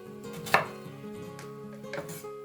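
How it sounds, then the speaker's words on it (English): A knife chops vegetables into big chunks on a board. A sharp thud stands out near the start among quieter cuts, and a steady background hum runs underneath. "just cut all your vegetables"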